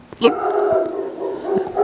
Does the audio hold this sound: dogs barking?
yes